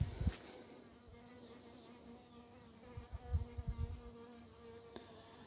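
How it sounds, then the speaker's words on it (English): A bee buzzes indoors beside an open window, a steady close drone that rises and wavers louder in the last few seconds as it moves around, with no talk over it. "It's a bee."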